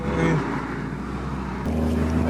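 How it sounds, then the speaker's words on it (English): Toyota pickup truck (1988–1997 model, fresh clutch replacement) pulling out onto the road: steady low engine drone with a gear change partway through, close and continuous, a faint voice in the background. "we are trying to pull out onto the road"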